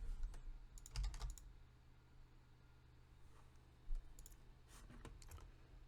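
Quiet, close computer-keyboard typing comes in short bursts of light clicks with pauses between, over a faint steady background hum.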